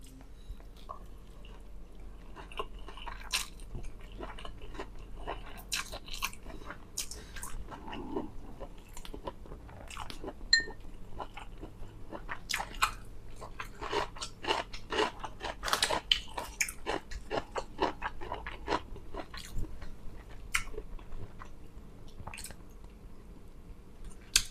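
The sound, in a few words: eating stir-fried rice noodles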